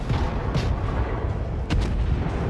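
Heavy booming gunfire from the Omaha cruiser's guns in World of Warships, a dense low rumble with a few sharper blasts near the end.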